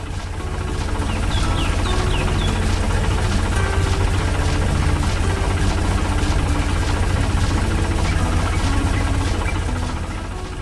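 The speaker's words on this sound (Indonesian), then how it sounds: "Traktor merah bergerak maju, menarik truk keemasan yang penuh hasil panen." Red tractor engine running in farm fields, a loud, steady low rumble with a throbbing mechanical rhythm that holds constant throughout, unaccompanied by talk.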